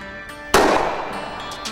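A single loud, sharp gunshot cracks outdoors during a turkey hunt, its blast decaying over about a second, with faint ambient noise before and after and no speech.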